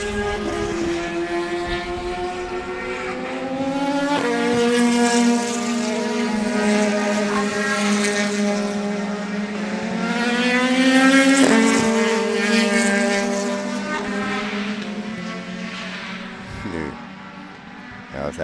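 Racing cars roar past at Sebring, their high engine notes rising and falling with shifts as they pass close by one after another, loud and continuous.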